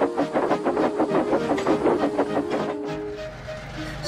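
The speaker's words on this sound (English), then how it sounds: "He and Arthur were tasked with running goods trains together." Animated railway story scene of goods trains running, a continuous rolling rumble with rhythmic clickety-clack wheel beats over the rails, steady and fairly loud, easing toward the end.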